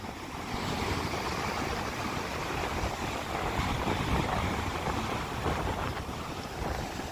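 Sea waves wash around a small boat on growing swells, a dense, continuous rush of water with heavy wind buffeting the microphone and no clear breaks.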